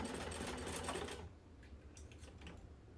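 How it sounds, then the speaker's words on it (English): A sewing machine top stitches fabric with a fast, steady mechanical whir for about a second before stopping, leaving faint handling sounds. "I'm going to top stitch this at an 1/8 of an inch seam allowance"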